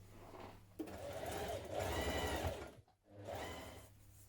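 Sewing machine running a long underarm sleeve seam on a onesie, a steady close whirring drone that dips briefly near the end before resuming.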